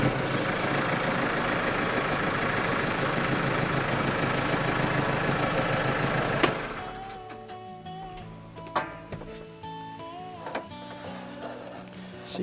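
An off-grid tractor's engine idles steadily in a creek for about six seconds, a dense continuous rumble that then cuts out, leaving quieter outdoor sounds with a few faint knocks.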